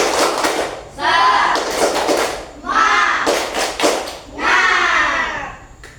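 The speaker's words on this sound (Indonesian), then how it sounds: "Tepuk semangat bareng dulu nah." Classroom children doing a rhythmic spirit clap together, bursts of loud group clapping in patterned beats interleaved with chanting voices and a teacher's talk.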